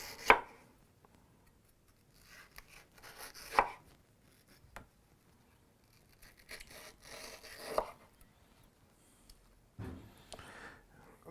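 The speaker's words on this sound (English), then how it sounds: "You go around the nut, and then you slice at an angle right alongside of the nut." A knife slicing through a mango around the stone, a few sparse close cuts and scrapes with quiet gaps between them.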